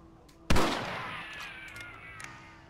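A single rifle shot in the video game Red Dead Redemption, a sharp loud crack followed by a ringing, slowly decaying echo, with no talk.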